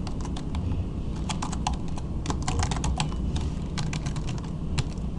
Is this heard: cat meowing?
no